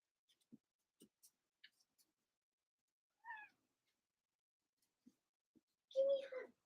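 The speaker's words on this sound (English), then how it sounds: "Kitty Cat's coming to say hi" A cat lets out a short meow near the end, preceded by faint clicks and a brief chirpy sound, fairly quiet in an otherwise still room with no talking.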